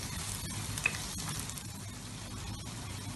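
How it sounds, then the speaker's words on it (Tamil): Coriander powder and chili powder fry in hot oil for a garlic kuzhambu, giving a steady, close sizzle with faint stirring and no talk. "இதை நல்லா எண்ணெயில் அந்த தூள் வாட போகிற அளவுக்கு நல்லா வதக்கிடுங்க."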